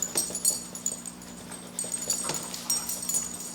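A dog barks indoors in a few sharp, fairly faint bursts spread across a few seconds, with a steady hum underneath.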